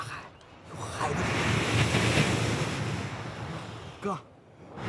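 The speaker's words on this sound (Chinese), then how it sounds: "大海，有海的。" Sea waves and sea wind on a coast, a broad washing surge that swells and fades over a few seconds with gusty wind noise, fairly faint, and a brief voice near the end.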